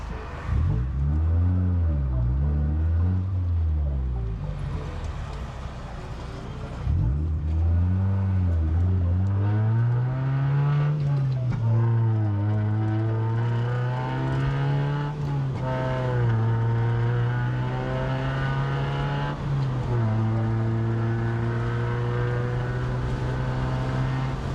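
A pink-wrapped Mazda Miata drives on a windy highway, its engine drone climbing in pitch through the gears, with clear drops at shifts and a steady cruising hum in between, close and alone without talk.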